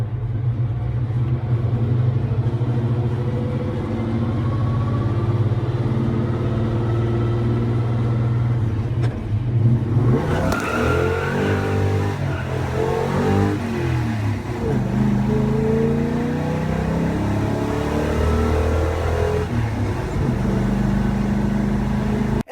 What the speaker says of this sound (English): it sounds like you're just screaming in a small block Chevy